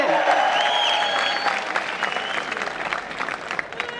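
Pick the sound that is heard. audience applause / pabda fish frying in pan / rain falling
audience applause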